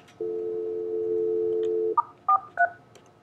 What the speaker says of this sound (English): I'll place a quick test call to the Echo test.